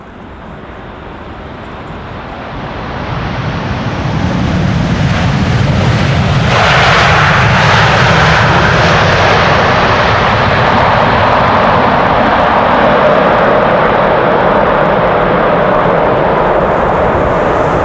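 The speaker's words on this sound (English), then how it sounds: "747-8s, they can get gnarly loud" A Boeing 747-8 jet arrives at Amsterdam Schiphol in strong wind. Its deep engine roar swells from a distant rumble into a loud, steady, broadband wash that stays close and powerful for many seconds.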